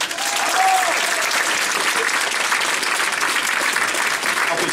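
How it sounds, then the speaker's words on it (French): A steady burst of applause from a crowd, dense clapping that holds at an even level throughout. "On l'applaudit."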